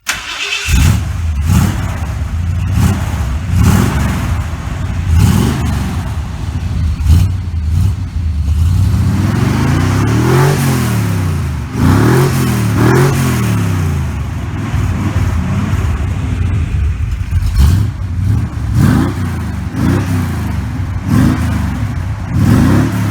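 A 1979 Ford F150 with a 351M V8 runs continuously and loud through a Dynomax or Magnaflow-style muffler, with a deep rumbling idle broken by repeated rising and falling revs in the middle.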